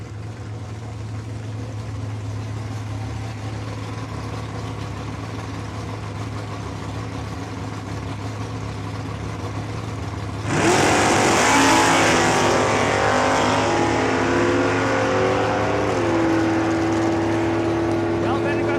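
At a drag strip, a 1984 Mustang and a white Fairlane idle with a low steady rumble, then a sudden loud full-throttle launch roars up and holds as the engines rev high, with an announcer talking over it.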